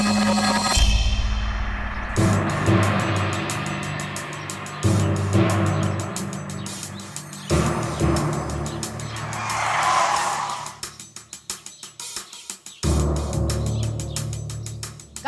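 A police car from a Bidhan village crime scene pulls away with skidding tires and a revving engine, a loud close burst of squeal followed by fading engine roar and some surging passes.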